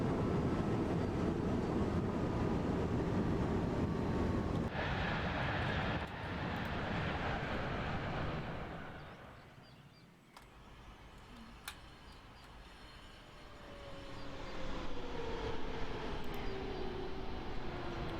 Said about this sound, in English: there is definitely a ring when the emergency brakes are in action. There's like a ring sound coming from the axles.